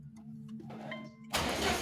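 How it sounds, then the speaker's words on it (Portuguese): A car engine is cranked and catches near the end, bursting into a loud running roar after quiet moments of faint background noise. "Vamos dar uma partida no carro."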